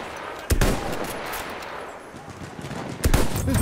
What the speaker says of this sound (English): There's a machine gun.